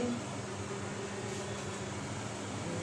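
Shrimp sizzle in a hot oiled wok, a steady, dense hiss of frying that holds at an even level throughout, close and moderately loud.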